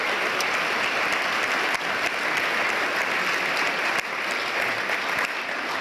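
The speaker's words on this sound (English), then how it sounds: "Let's give everyone a round of applause before we get started." An audience at a health and wellbeing panel gives a loud, even round of applause, a dense wall of clapping that carries on steadily with a few crisp individual claps on top.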